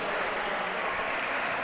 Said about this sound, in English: A wave of applause for all the UCL players.